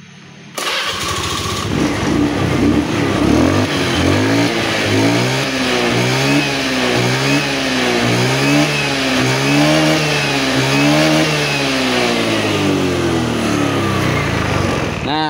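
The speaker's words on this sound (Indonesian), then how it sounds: "Coba kita start lagi motornya." A fuel-injected motorcycle engine starts up and is revved repeatedly, loud and close, its pitch rising and falling in a regular wave of throttle blips after a brief quiet start.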